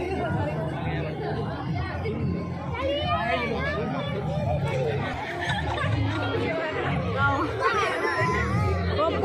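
Chatter of a large crowd at a busy gathering, a steady babble of many overlapping voices with occasional nearby speech standing out, continuous throughout.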